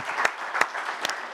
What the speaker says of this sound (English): Please give our panel a huge round of applause.